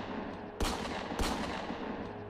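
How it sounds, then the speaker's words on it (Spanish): Gunshots fired in a tense confrontation, heard as two sharp, loud blasts about half a second apart near the start, followed by a third abrupt report at the end, with a steady low rumble underneath. "Disparos."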